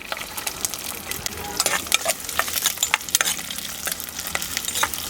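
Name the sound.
chopped shallots sizzling in a frying pan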